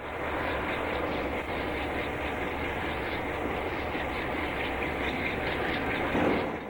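Eastbound freight train led by several Alco Century 628 diesel locomotives passes through Lehighton, a steady broad rumble and roar holding throughout at close range.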